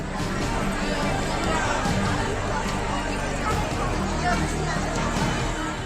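Large crowd packed into a COVID vaccination centre at Dahibhatta, a steady dense hubbub of many overlapping voices and movement throughout, loud and continuous with no single speaker standing out.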